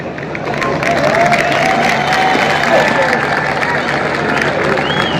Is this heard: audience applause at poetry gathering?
yes